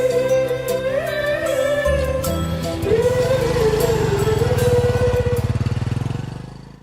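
A motorbike engine idles and revs, then pulls away, its pitch climbing and falling through gear changes before the sound tapers off as it rides into the distance.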